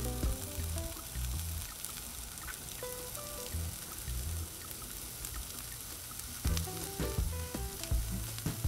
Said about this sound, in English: I love onions, I cook them all the time. So we just want to get these a little bit browned on the outside